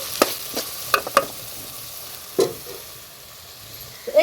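Mushrooms frying in oil while being stirred, with a few sharp scraping and clattering hits from the spoon standing out over a faint low sizzle.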